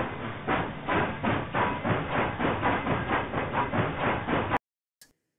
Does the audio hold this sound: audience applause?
no